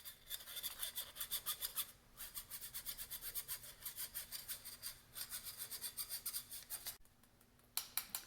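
Cocoa powder being sifted over eggless homemade tiramisu cups: quick, rhythmic scratchy strokes in close, steady runs, broken by brief pauses, with no talking.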